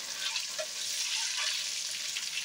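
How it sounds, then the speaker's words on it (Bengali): Eggs frying in hot oil for an egg curry give a steady, dense sizzle that holds evenly throughout, with faint crackles and pops over the top and no voices. "তো এই তেলে ডিমটাকে আমরা ভালো করে ভেজে নেবো, একদম ভালো করে আমরা ভেজে নেব"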